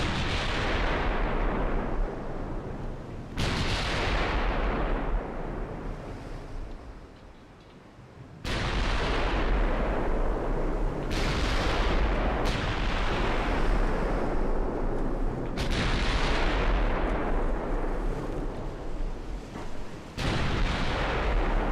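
Heavy naval gunfire from battleships in the naval strategy game Ultimate Admiral Dreadnoughts: loud, rumbling booming salvos, each with a long decaying tail, repeating every few seconds with almost no pause between them.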